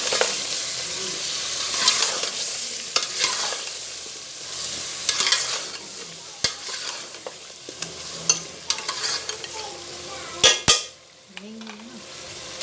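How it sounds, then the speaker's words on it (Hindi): Goat meat and potatoes sizzling and frying in a pan with ginger garlic paste, steady crackle, interrupted by scraping and stirring with a utensil and occasional clinks of metal. "इसको भी हम 4 से 5 मिनट लहसुन अदरक में भूनेंगे।"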